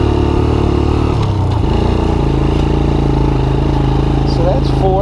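Engine of a Honda TRX90 ATV running steadily, its pitch dropping and resettling as the quad shifts into fourth gear, loud and close with a voice talking over it.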